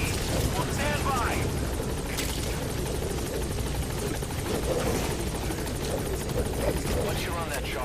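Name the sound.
military helicopter arriving at landing zone in Metal Gear Solid 5 video game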